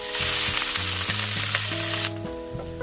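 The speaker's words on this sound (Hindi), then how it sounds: "इन तमाम चीज़ों को एक साथ डालेंगे, इसमें थोड़ा सौते करेंगे इनको" Garlic and finely chopped green chillies sautéing in a pan give a steady loud sizzle and fry crackle, with background music tones running underneath throughout.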